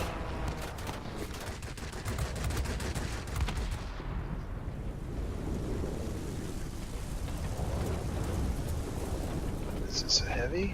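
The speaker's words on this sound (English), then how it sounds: "Short bursts with these cannons," Rapid aircraft cannon fire from a Russian LaGG-3 fighter in World of Warplanes, dense crackling bursts over steady engine drone that continue throughout, with a voice talking underneath.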